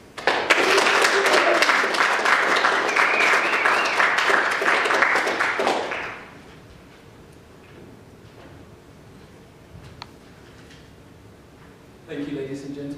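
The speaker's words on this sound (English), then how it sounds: "I'd like to have a warm round of applause, please, for our first act" Warm audience applause greets the first act at a talk on design, a loud dense patter lasting about six seconds before fading to a quiet room, with a brief stir near the end.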